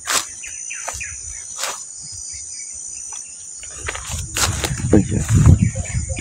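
Birds chirp and a few insects buzz along a rocky creek in the countryside, scattered high calls over a faint outdoor bed, with brief voices and nearby movement growing louder toward the end.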